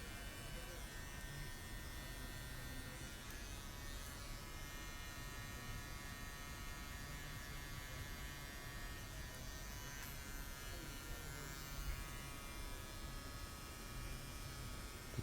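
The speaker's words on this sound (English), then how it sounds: "When I was done, I went in my clipper, blending everything down in a downward motion." An electric hair clipper buzzes steadily at low volume while blending a high taper fade, giving a constant faint motor hum with slight changes as the blade moves through the hair.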